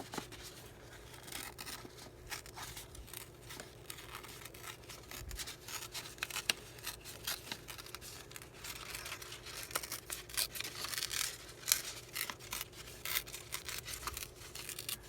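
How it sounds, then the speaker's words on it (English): Paper pages are torn out of a book by hand, with soft, continuous ripping and crinkling that stays faint and close throughout. "I'm holding with my left and tearing with my right"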